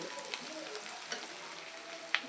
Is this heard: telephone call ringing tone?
no